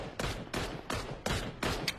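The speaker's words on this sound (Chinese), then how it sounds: "这雨佳你都不开枪" Rapid gunfire bursts in a battle royale shooter game, five loud, evenly spaced volleys over two seconds, close and dominant with no talk over them.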